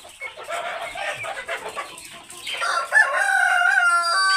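Laying hens clucking and a rooster crowing on a poultry farm, a busy mix of overlapping clucks building into a loud, drawn-out crow near the end.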